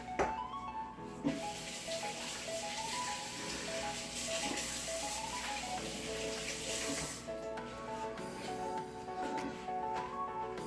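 Hands are washed under a running kitchen tap while cooking stewed chicken, a steady soft hiss of flowing water with light splashing that continues for several seconds before fading slightly near the end.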